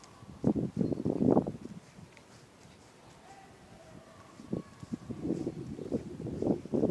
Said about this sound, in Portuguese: O vento tá tá bom, né? O ventinho.